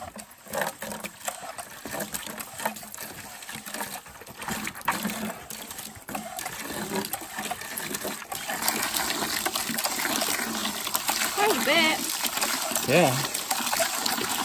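Muddy, silty well water gushing out as the well is pumped, a rushing splashing flow that builds and grows steadier over time, with people talking briefly nearby.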